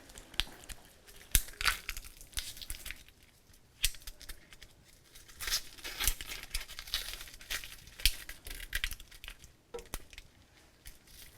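Papery onion skin being peeled back by hand while preparing smoky collard greens, giving repeated close dry crinkling and tearing crackles in irregular bursts, with no talking.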